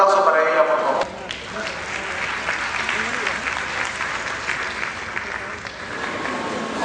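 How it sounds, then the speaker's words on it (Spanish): Audience applause at a pedagogy conference in Spanish, steady dense clapping from a seated crowd lasting several seconds after a brief opening of speech, even and sustained to the end. "Un aplauso para ella, por favor."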